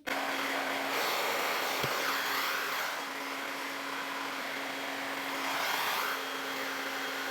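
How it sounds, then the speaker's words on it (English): A hair dryer fitted with a diffuser blows steadily and loudly up close while drying curly hair, a continuous whooshing roar with a faint tonal whine and slight swells in airflow, and no voices. "You're not gonna be able to hear me when I start diffusing."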